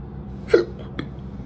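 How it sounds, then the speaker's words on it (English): A single sharp hiccup from someone who has just eaten spicy food, followed by a fainter second catch over a low background hum. "Done gave me the hiccups."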